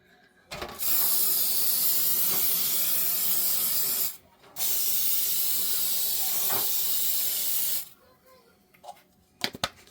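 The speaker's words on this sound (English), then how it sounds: "I'm going to use this all-purpose food release. I'm going to use this in my pan just to make it easier on myself today." All-purpose food release spray hisses into a grooved cake pan in two long, steady bursts, loud and close, separated by a short pause and followed by small handling clicks.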